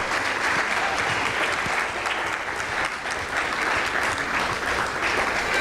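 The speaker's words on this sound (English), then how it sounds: "give a round of applause for these guys" Steady, close audience applause for performers at a telethon, a dense even wash of clapping that holds throughout.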